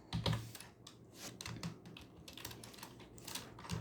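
Close, quiet typing on a computer keyboard while entering Python code, a steady irregular patter of light key clicks with a couple of heavier strokes, no talking.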